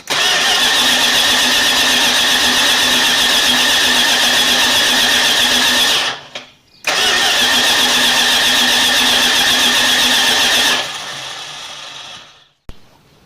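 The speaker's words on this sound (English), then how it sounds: "we're going to crank over on it a couple times and see what happens" A 1979 Chrysler 300 engine cranks loudly and steadily for several seconds, pauses briefly, then cranks again at length before the sound drops and changes, heard up close.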